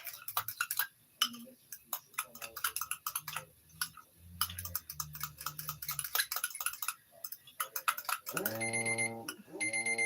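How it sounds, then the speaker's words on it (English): A kitchen timer going off in a home kitchen during cooking: a steady run of rapid ticking and clattering, then a loud ringing tone near the end, close by. "Oh, that is my timer."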